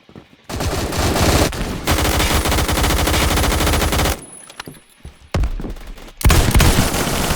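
Rapid hip-fired gunfire in a shooter video game, loud bursts of automatic shots in long sustained strings, broken by brief pauses and a couple of shorter volleys.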